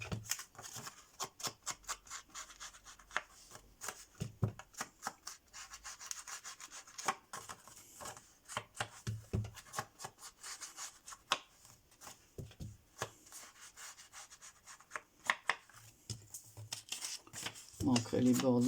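Ink rubbed onto the paper edges of a vintage album page, a close, soft scratchy scuffing in repeated short strokes, heard under intermittent speech.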